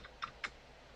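A few quick keystrokes on a computer keyboard, two faint clicks close together in a quiet room.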